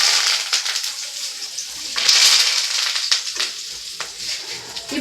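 Curry leaves go into a hot pan and crackle loudly, a dense, bright sputtering sizzle that keeps going close up for several seconds with a few sharper pops.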